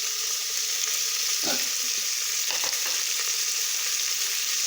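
Finely chopped chicken frying in a pan for chicken pasta, with a loud, continuous hiss of sizzling oil throughout and a couple of soft stirring scrapes partway through.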